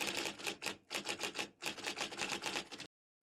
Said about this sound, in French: le seul bruit qu'on entendit fut le clic des touches de la vieille machine à écrire